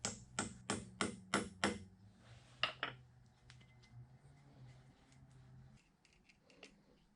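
A taper pin is tapped into a lathe attachment with a small hammer: about six sharp, evenly spaced metallic taps, then a couple of softer knocks and faint clinks fading toward the end.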